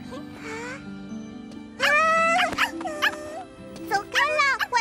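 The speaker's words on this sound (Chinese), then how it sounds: "走开了，坏狗狗！" A cartoon dog barks and howls in short, bright, close bursts, with a sustained tonal hum beneath. Little other sound accompanies it.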